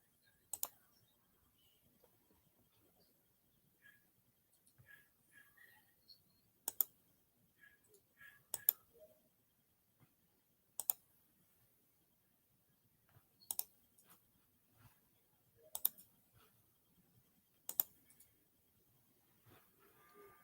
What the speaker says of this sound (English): Hear all that clicking? That's work.